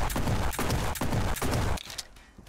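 Bursts of rapid gunfire from The Red Solstice 2: Survivors, several loud back-to-back volleys that stop abruptly near the end, leaving a quieter tail.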